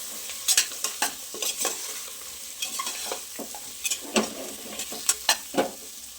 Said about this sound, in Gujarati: થોડીક વાર માટે આ રીતે જ એને તેલમાં સરસ કૂક થવા દઈએ